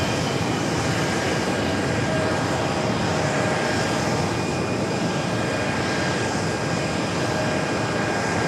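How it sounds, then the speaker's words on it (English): A heavy Airbus A330 comes in to land on runway 4 right at JFK, its engines a loud, steady broadband roar that holds without a break for the whole stretch, with no voices over it. "On heavy Airbus 330, caution away turbines, make 4 right, clear to land."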